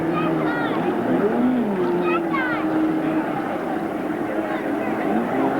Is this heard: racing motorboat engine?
yes